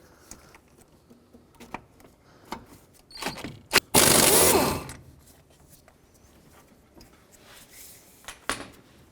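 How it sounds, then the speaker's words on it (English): A ratchet removes a 17 mm bolt from the engine mount of a 2002–06 Toyota Camry. Scattered metallic clicks and clinks come close by, broken by a loud burst of rapid ratcheting lasting about a second. "And now I'll remove this 17 millimeter bolt here."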